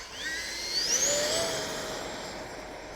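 A Freewing 70mm F-22 Raptor RC jet spools up for takeoff with flaps set, a rising, whining turbine-fan tone swelling over a steady rushing roar, fairly close and alone.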